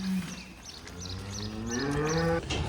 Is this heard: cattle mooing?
yes